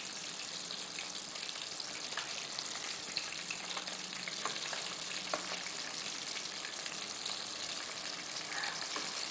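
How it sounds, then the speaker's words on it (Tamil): Egg-dipped pieces sizzle in oil over a low flame, a steady dense crackle with occasional sharper pops, fairly close and even throughout with no talking. "மறுபடியும் நம்ம முட்டையில் டிப் பண்ணிவிட்டு மறுபடியும் நம்ம ஃப்ரை பண்ணணும்"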